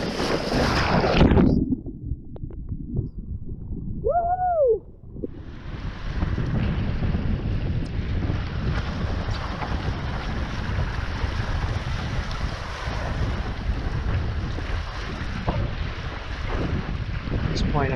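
Wind blowing hard across Lake Jocassee during a foil windsurfing session, a loud continuous roar of wind buffeting the microphone with water hiss, briefly dropping near the start before a steady gusty rush.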